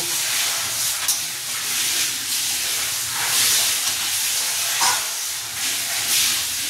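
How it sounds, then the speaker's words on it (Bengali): Hilsa fish curry gravy boils hard in a pot, giving a loud, steady hiss and bubbling sizzle that swells and eases in waves, close up and with no talking. "ঝোল ফুটছে, এবার 2 চামচ লবণ দিয়ে দেব।"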